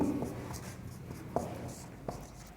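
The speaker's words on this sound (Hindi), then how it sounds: "अब कहानी का नाम लिख देंगे दो बेलों की" Pen writing a story's title on paper during a Hindi class lesson, faint soft scratching strokes with a few light taps, close and quiet.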